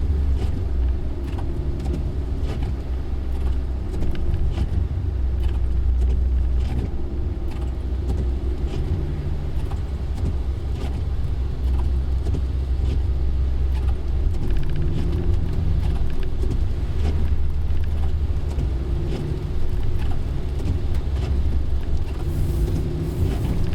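Proton Iriz 2019 hatchback making a U-turn around a roundabout on a wet Genting hill road, heard from inside as a steady low engine drone with road and tyre rumble, constant and fairly loud.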